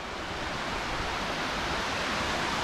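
Waterfall at Two Lakes Park in downtown Seward, Alaska: a continuous, loud, even rush of falling water with no breaks and no voices.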